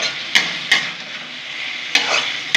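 Potatoes are stir-fried in a pan with Raikhar fish. A steady, close sizzle runs under several sharp spatula clinks and scrapes against the pan, with no talking.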